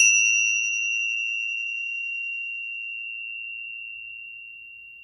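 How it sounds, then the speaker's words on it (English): Tibetan tingsha bells, small metal hand cymbals, struck together once, ringing out in a single pure, high, close tone that decays slowly over several seconds, with no other sound. "Tingsha bells are basically little Tibetan hand cymbals."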